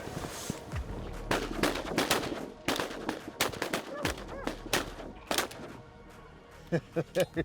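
Shotgun blasts fired at a big flock of teal ducks over a flooded wheat field in North Dakota, a rapid volley of sharp, loud reports in uneven bursts, with a few more spaced shots at the end.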